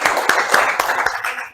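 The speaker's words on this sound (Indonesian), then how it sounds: "Kasih tepuk tangan dong" A classroom of students claps for a classmate, a brief burst of loud, dense applause that fades out within about a second and a half.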